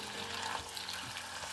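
Potatoes fry in a pan and are stirred often with a silicone spatula or wooden spoon, giving a soft, continuous sizzle broken by light scraping strokes.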